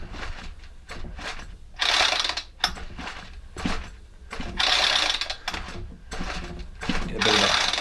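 Ryobi four-stroke string trimmer engine cranked over slowly by its pull-start cord, a series of ratcheting, whirring pulls with pauses between, close and fairly loud.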